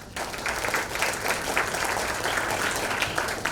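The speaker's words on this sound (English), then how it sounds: "Can we give yourselves a big round of applause?" Participants and mentors at the CFA Institute Research Challenge Sri Lanka grand final applaud themselves, a full, even roar of clapping from a large room that holds steady for a few seconds.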